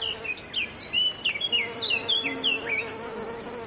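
Clumsy flying insects buzzing among flowers of an ancient type, a close, continuous insect drone with rising and falling whines as they move about, alone and without voices.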